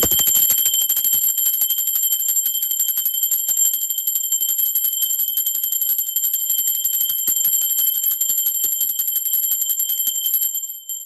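A bell rings rapidly and continuously in a fast, bright metallic trill, loud and close, for about ten seconds before stopping abruptly; no voices are heard.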